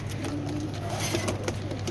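Pakistani high-flyer pigeons, a pair of old-breed birds, giving soft low coos amid rustling and light background noise, close by.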